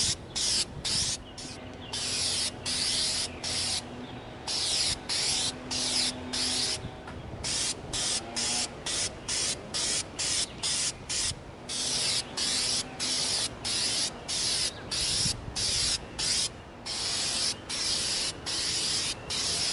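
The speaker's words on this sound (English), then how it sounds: "We're gonna begin spraying our samurai helmet with our flat black." Repeated short bursts of flat black spray paint hiss from an aerosol can onto an EVA foam samurai helmet, each lasting a second or two with brief pauses between, close and steady.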